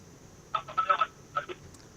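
Telephone ringback tone on a call trying to connect during a stock consultation broadcast, two short bursts of ringing, quiet and close against a near-silent background.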